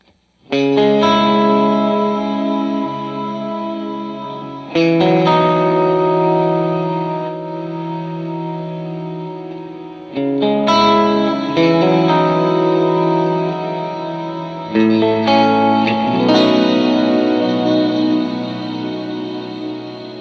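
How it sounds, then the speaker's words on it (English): Guitar chords ring through an Eventide Space pedal on its Black Hole setting, a very long reverb with decay turned nearly all the way up. Four strummed chords each swell and sustain into a thick, lingering tail, with no talk. "the Eventide black hole setting"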